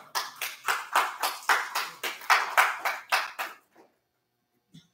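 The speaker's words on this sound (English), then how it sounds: "Give the Lord a round of applause." A church congregation claps in a slow, steady rhythm, about a dozen distinct unison beats close by, then stops abruptly into near silence.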